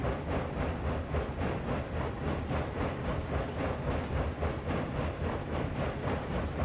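A steam locomotive in the game Railroads Online straining uphill under a heavy load, its exhaust chuffing in a fast, even, continuous rhythm at moderate loudness, with no talking.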